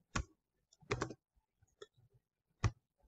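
Sparse, quiet keystrokes on a computer keyboard: a handful of separate clicks and short clusters with pauses between them, close by in a quiet room.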